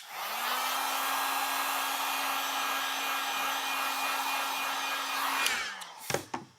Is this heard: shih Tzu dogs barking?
no